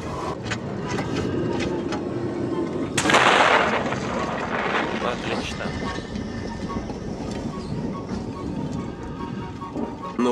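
A bomb blast blows open a crack in a rock in Alien: Isolation, a sudden loud boom partway through followed by rumbling debris over a steady low game ambience.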